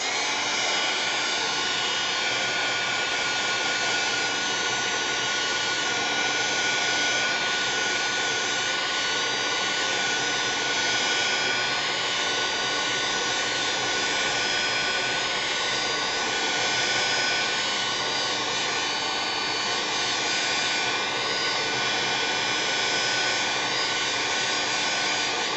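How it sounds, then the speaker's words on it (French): A heat gun dries an alcohol marker background, giving off a loud, continuous, even blowing whir from close range that keeps going throughout without a break or any speech. "je prends mon heat gun et je sèche"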